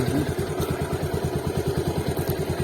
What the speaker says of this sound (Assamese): ষ্টাৰ্ট বুলি কোৱাৰ লগে লগে বাইকখন ষ্টাৰ্ট হৈ গ'ল